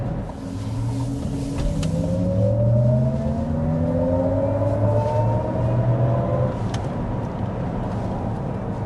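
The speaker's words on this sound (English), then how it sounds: "So that's acceleration in sport mode." A 2024 Cadillac LYRIQ electric car accelerates hard in sport mode, its motor whine rising steadily in pitch over a low road rumble, loud and sustained from inside the cabin with no talking.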